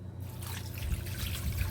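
Homemade canned chicken broth pours into a Crockpot-brand slow cooker in a steady, close splashing trickle that swells slightly toward the end, with no talking.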